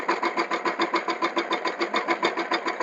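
A mini tractor engine chugs steadily at close range while pulling a leveling plank through a sown groundnut field, its rapid, even pulsing loud and unbroken, with no voices.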